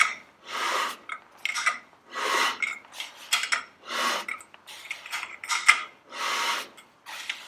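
Brake adjuster on a Ferguson TED20 tractor being turned with a ratchet, a steady series of rhythmic clicking, rasping bursts, close and clear with no talk.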